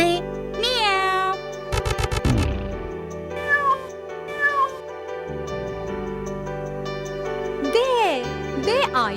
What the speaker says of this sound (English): A cat mews.